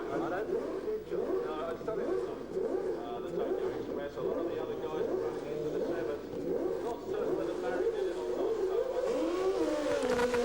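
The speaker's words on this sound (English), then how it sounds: "Both bikes get away cleanly, but the superior power of the Suzuki takes Martin through to the final." Nitrous-injected 1700cc Suzuki drag bike launching in a 1991 street bike race final, engine howl rising and shifting steadily through repeated upward sweeps, loud and sustained beneath a commentator talking.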